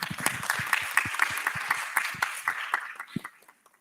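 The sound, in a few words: audience applause at a policy dialogue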